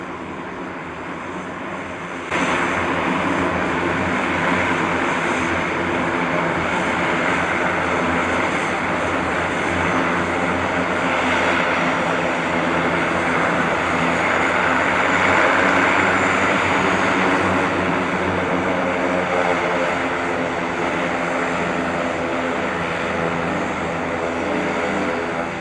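Steady drone of a Cessna Grand Caravan turboprop aircraft engine at Vancouver Harbour Flight Centre, a continuous loud hum that swells slightly midway, heard alone without voices.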